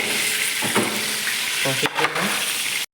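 Hot oil sizzling steadily in a pan while cooking chicken biryani, a close, continuous hiss broken by a few clanks and scrapes of a utensil before cutting off abruptly.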